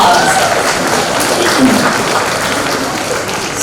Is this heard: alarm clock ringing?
no